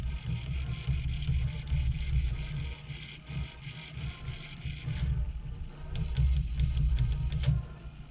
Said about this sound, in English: It's louder than shit because the servos are 160 years old